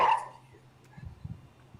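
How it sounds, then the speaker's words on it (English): Dogs fighting over an egg let out one loud sharp bark at the start, followed by quieter low growls and grumbles as voices talk faintly nearby. "dogs are fighting over that last egg"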